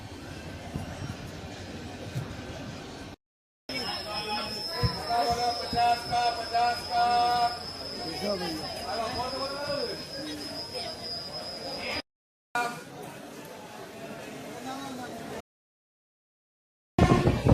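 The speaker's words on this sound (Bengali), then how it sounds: "train just Panskura junction pass করছে" A passenger train rolls through Panskura Junction, heard from on board: a steady rumble of wheels on track with squealing wheel tones, briefly cut by short silences, with faint voices in the carriage.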